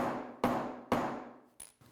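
Sharp hammer blows land on a hard walnut wooden box, three heavy strikes each ringing out briefly, followed by a lighter tap near the end, all close and clear without talk.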